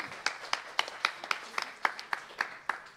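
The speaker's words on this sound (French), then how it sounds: "Vous avez le droit d'applaudir si vous voulez" A few isolated claps ring out one after another at an uneven rhythm in a church worship service, sparse and moderately close, like a lone person or small handful clapping.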